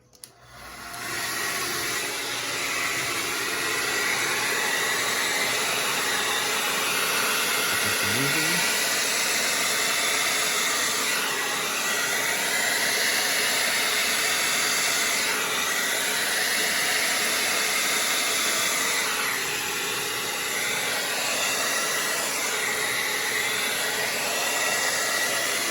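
Hair dryer blowing across wet paint mixed with Floetrol for an acrylic pour bloom, a loud, steady close-up whoosh and hiss that starts with a click and runs unbroken, its pitch wavering slightly as it moves.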